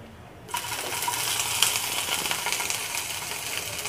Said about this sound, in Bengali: চিংড়ি মাছগুলো ছেড়ে দিচ্ছি।